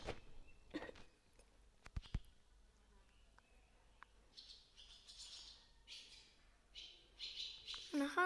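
Birds squawking and chirping at a petting zoo with assorted animals, faint scattered calls and sharp squawks at a distance, with buzzing and a few knocks in a quiet outdoor setting.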